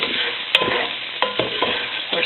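Rice tossed and stirred in a pan with garlic and onion, giving a steady sizzle with repeated scraping strokes of the spoon, close and alone.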